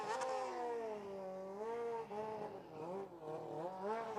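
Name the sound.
car engine revving and hitting the rev limiter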